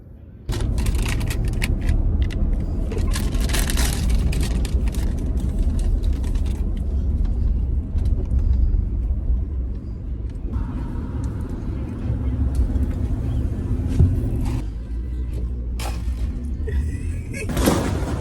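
Low, steady road rumble inside a moving car, with a door thud near the start and occasional bumps, and voices heard faintly now and then.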